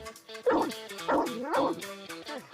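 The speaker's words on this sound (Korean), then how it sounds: "차를 돌아다니며 쉴 새 없이 짖기 시작하는데요" A dog barks repeatedly inside a moving car, a series of sharp, close yips and barks in an uneven rhythm with short whimpering gaps between them.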